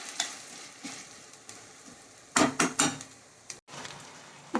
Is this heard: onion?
yes